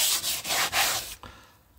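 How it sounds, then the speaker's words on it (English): Scrubbing a door card from a Jaguar XJ6 Series 1, a steady abrasive rubbing with a few brief pauses and a short tail, close and moderately loud with no talk. "Spray this door card, give it a bit of scrub."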